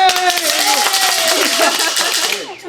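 Audience applause at a small live show, loud close clapping mixed with a voice speaking over it, fading toward the end.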